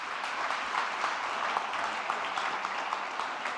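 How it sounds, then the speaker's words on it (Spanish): An audience at a scientific conference at a hospital applauds a doctor, with steady, dense clapping at an even level throughout and no speech over it. "Por favor, un fuerte aplauso para la doctora Sánchez."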